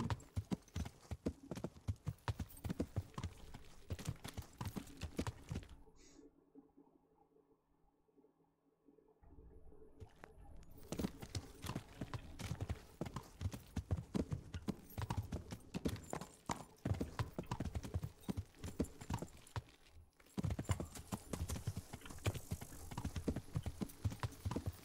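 Horse hooves clip-clop in the medieval game Kingdom Come: Deliverance, a steady close trotting rhythm that drops away into near silence for a few seconds midway, then resumes.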